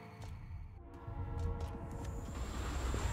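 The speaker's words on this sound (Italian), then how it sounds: "C'è il treno, è arrivato." A train pulls in within the video game Haiku, the Robot, a low rumbling roll building steadily in loudness with a faint high tonal whine and brief clanks, no talking.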